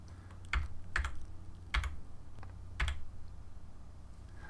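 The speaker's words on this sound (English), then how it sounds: "I'll use the left and right bracket keys like we did earlier to make my brush about the same size as the reflection" Bracket keys tapped on a computer keyboard during photo editing, a handful of separate crisp clicks spaced irregularly, close and fairly quiet over a low room hum, with no talking.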